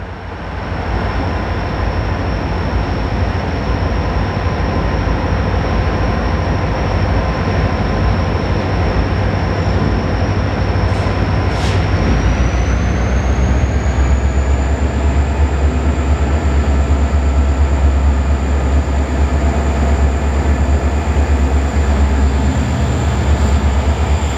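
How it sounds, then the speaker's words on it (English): Portland & Western freight train led by locomotive 3002, climbing a short grade on the Toledo District, a loud continuous engine rumble with steady deep throb and a high whine, sustained and close with no voices. "our train passes under Highway 20 for the last time"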